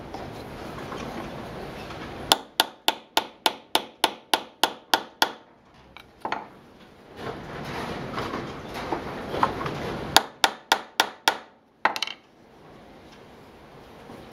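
A hammer peening the pin of a slipjoint knife: two runs of quick, evenly spaced sharp metallic taps, about eight or nine in the first run and five in the second, with handling noise between them, close and clear.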